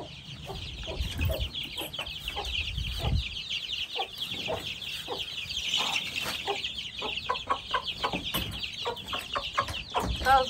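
Several chickens cluck and chatter around a rural farmyard beside a vegetable garden, with steady, moderately close bursts of clucking and no talk.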